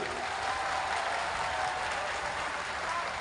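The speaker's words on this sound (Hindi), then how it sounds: "जोर से ताली बजाइए" A large crowd at a political rally in Palghar claps loudly and steadily for the Shiv Sena chief minister, a dense, even wall of applause that holds throughout.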